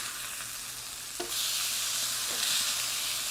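A smashburger sizzles loudly on a hot griddle with a constant frying hiss. A short metallic scrape marks the flip, then the sizzle swells louder.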